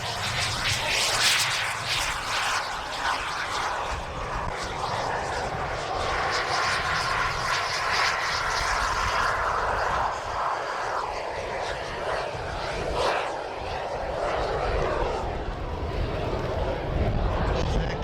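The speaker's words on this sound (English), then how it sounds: "Two very, very fine examples of scale jets." Model scale jets taking off at an outdoor air show, a continuous loud turbine roar and hiss that swells and shifts over many seconds, with a commentator talking over it.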